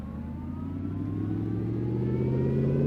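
A car engine without a turbocharger revving in a racing video game, a loud steady drone whose pitch climbs smoothly as it accelerates, alone with no talk.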